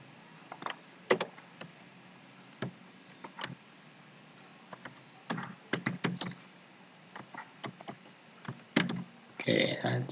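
Computer keyboard typing, scattered quiet clacks in short bursts and single taps, with a brief shuffle of handling noise near the end.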